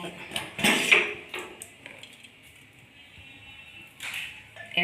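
A metal cooking-pot lid lifted off a pot of masala curry, with clattering clinks up front, then quieter handling and another clink near the end.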